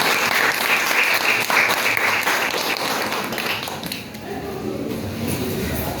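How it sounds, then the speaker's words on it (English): An audience applauds after a student presentation in a lecture setting, a dense, steady wash of clapping from many hands that thins slightly toward the end. "And big clap for this."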